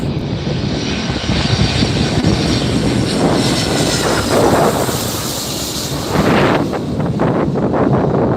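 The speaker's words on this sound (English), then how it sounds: "757 coming in from Newark, United Flight 2191" A United Boeing 757 airliner arriving at LAX roars loudly and steadily close overhead, its engine noise holding strong throughout with wind buffeting the microphone.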